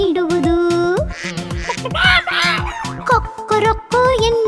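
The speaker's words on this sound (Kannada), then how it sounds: "ಕೊಕ್ಕೊ ಎನ್ನುತ್ತ ಹುಂಜ ಎಬ್ಬಿಸುವುದು ಮುಂಜಾನೆ." A cartoon rooster crows in the morning and chickens cluck repeatedly over a rhythmic children's song backing, close and lively.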